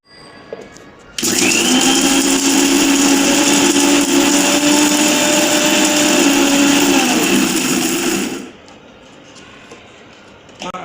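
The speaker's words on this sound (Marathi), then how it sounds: "यानंतर आपण हे मिश्रण मिक्सरच्या साह्यानं बारीक करून घेऊया" Electric mixer grinder grinding ingredients into powder, a sudden loud whirring roar that runs steadily for about seven seconds then cuts off, quiet before and after.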